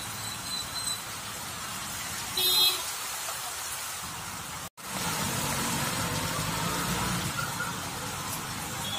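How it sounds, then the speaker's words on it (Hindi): Heavy rain falls steadily on a flooded main road, giving a close, continuous hiss with water splashing under it. The sound cuts out once briefly partway through. "कितना सारा बारिश हो चुका है"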